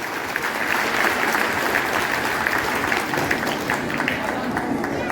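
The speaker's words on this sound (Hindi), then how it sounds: "एक बार जोरदार ताली बजा दें" Loud, sustained applause from a large audience at an RCM business meeting stage event, dense steady clapping filling the whole stretch without a break.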